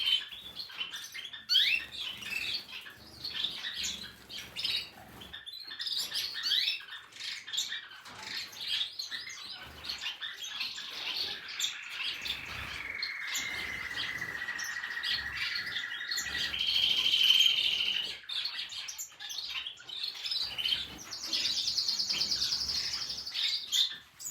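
Male goldfinches sing from a wire in breeding season, with rapid twittering chirps and warbled phrases, then longer sustained buzzy trills, close and fairly clear against light outdoor background.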